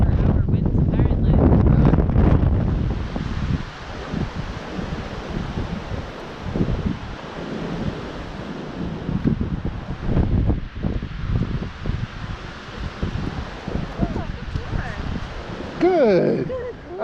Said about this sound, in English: It's a beautiful day, awfully windy, but it's great.